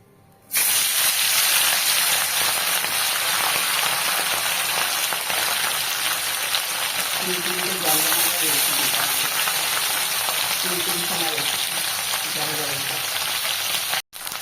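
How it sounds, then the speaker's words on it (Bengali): Fish pieces frying one by one in hot oil give a loud, steady hiss and crackle that runs almost the whole way through, with a voice briefly talking over it partway. "এক এক করে আমি সব মাছগুলো ভেজে নেব।"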